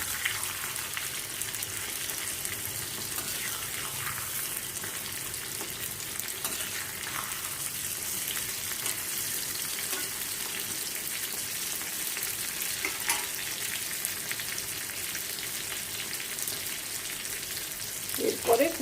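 Crushed garlic sizzles steadily in a hot pan for a long stretch, with occasional scrapes and clatter of stirring and some quiet talk underneath.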